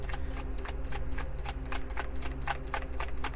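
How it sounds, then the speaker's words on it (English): Tarot cards being riffle-shuffled by hand, a quick run of crisp, evenly spaced flicking snaps close to the microphone over a steady low background hum. "Why do you shuffle three times and cut if you're just gonna let them fly?"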